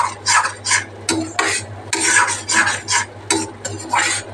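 A spoon stirs kakrol and potato curry in a pan, making repeated rhythmic scraping and rubbing strokes close up, with a faint sizzle underneath and no talking.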